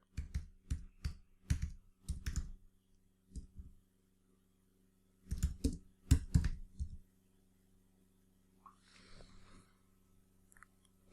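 Computer keyboard keys are tapped in short clusters of sharp, close clicks with gaps between them. A faint rustle follows near the end.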